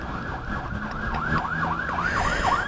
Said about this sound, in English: A lot of ambulances run around this town.